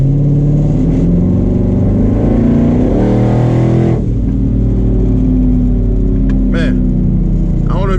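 A 650 hp twin-turbo Ford Mustang 5.0 accelerates on the road, its engine revving up loud and close with rising turbo whine, then settling into a steady cruising drone.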